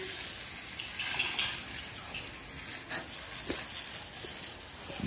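Water runs from a tap in a dog breeder's yard to fill the dogs' water bowls, a continuous hissing gush, moderately close, with slight surges and no voices.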